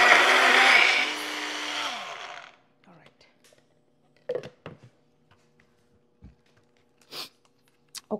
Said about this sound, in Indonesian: Ini sekarang blender saya ada problem loh.